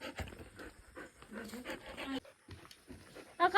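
A dog pants in quick, soft bursts close by, breathy and uneven, with short gaps and a few faint whimpers between the breaths.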